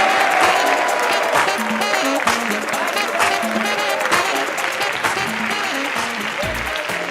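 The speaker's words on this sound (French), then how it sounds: "Sous vos applaudissements, mesdames et messieurs" Audience applause at a Parlement du Rire comedy show, a loud, sustained crowd clapping close by throughout, with music and some voices mixed in beneath.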